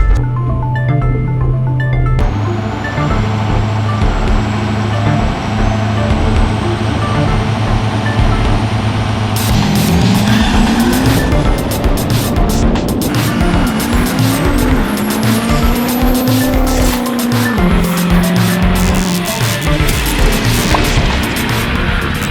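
A 1000-horsepower 6.0L Powerstroke diesel truck at a drag strip fills the scene with loud, sustained engine roar, shifting pitch as revs rise and fall, mixed with other track vehicle noise.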